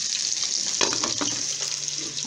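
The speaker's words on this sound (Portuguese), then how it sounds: "aqui eu tô terminando de fritar aqui o franguinho" Chicken frying in a pan for a home-cooked lunch, a steady broadband sizzle with crackling pops and spatters throughout, close and continuous with no talking.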